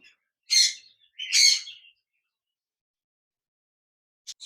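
Two short bursts of high, bright finch chirping, then silence, with a brief faint chirp near the end.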